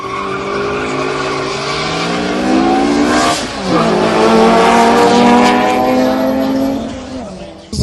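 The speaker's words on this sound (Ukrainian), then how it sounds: "Машини учасники повинні були подолати 402 метри відстані на швидкість." Drag racing cars at a Ternopil drag event accelerating hard over a 402-metre strip, loud close engines climbing through gears with a shift and tire squeal, continuous roar throughout.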